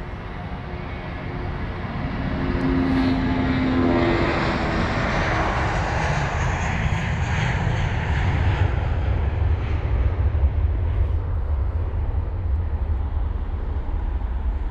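Airbus A320ceo jet departing London Heathrow, a loud roaring engine rumble that swells after a couple of seconds and stays strong as the aircraft passes, heard from outside with no talking.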